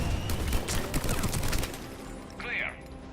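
Sustained suppressing gunfire in Mass Effect 3, a dense rattling fusillade that fades out partway through, with a voice and game effects faintly mixed in.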